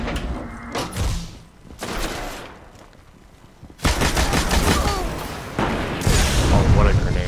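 A grenade blast in a video-game firefight, booming over dense automatic gunfire and scattered shots, with a loud burst of explosive noise midway that stays heavy to the end.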